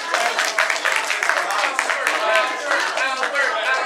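Cheering and applause from a live audience at a comedy show, a steady dense wash of clapping and crowd noise throughout with no clear pauses.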